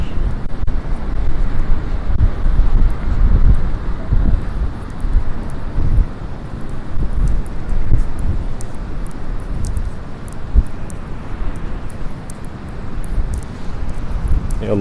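Strong wind gusts across a beach promenade in Martil, Morocco, roaring loudly into the microphone in continuous buffeting waves with no speech heard.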